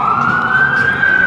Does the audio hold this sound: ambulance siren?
yes